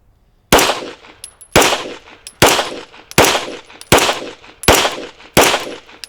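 Seven sharp handgun shots ring out at an even pace about one per second during shooting training, each loud crack followed by a short decaying echo.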